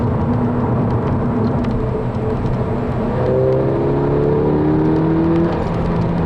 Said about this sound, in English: The car's engine just sounds fantastic.